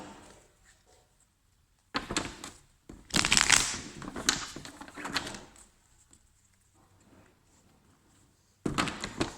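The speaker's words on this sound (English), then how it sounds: "there is construction going on, so they're making a lot of noise" Intermittent bangs, scraping and clattering bursts of construction work, loud for a few seconds then quieter rumbling, with bursts starting and stopping irregularly.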